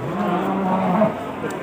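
Cattle at a livestock market in Kudus, one animal letting out a single long, fairly close moo that rises and falls over about a second amid faint market background.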